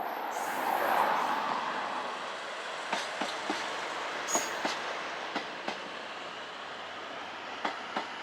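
A train in Tochigi Prefecture, Japan, rumbles past at moderate distance, with a broad steady roar and a series of rhythmic clicks from the wheels over rail joints.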